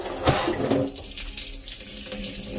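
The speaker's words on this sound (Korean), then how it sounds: "자 이곳에 말라 있던 곳에 한번 제가 물을 부어 보겠습니다" Water pours from a kitchen tap onto a dry dish scrubber in a sink, a close, steady splashing rush that is loudest at first and then settles into a softer, continuous flow.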